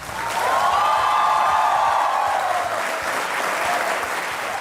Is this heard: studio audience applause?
yes